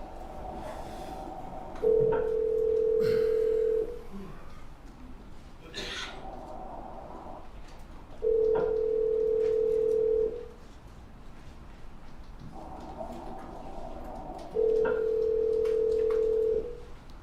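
Phone call placed from a recording played in a courtroom: three long, even ringback tones sound at regular intervals, each about two seconds, with faint room noise between them and no talk.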